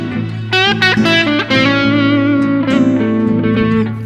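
An electric guitar with distortion plays a quick Mixolydian mode lick, a run of picked notes that settles into sustained, slightly bent tones, loud and alone without any voice.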